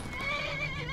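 In the game Skyrim, a wild horse lets out a clear, close whinny with wavering tone over faint hoof clops, heard alone without talk.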